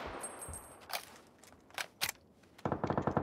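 Gunfire in the video game PlayerUnknown's Battlegrounds: a few scattered single shots of varying loudness, then a rapid automatic burst of closely spaced cracks near the end, with no talk over it.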